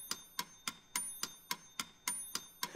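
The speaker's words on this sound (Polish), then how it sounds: "To jest metronom." A metronome ticks at a steady, even tempo, about three sharp clicks per second, close and clear with a faint ringing tone behind it and nothing else heard.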